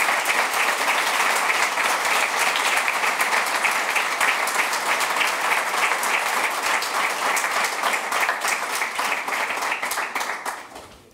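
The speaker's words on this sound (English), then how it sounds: "thank you for clapping" Sustained audience applause following a conference talk on decoupling search with Drupal Search API, dense and steady clapping from a full room that fades out at the end, with no speech over it.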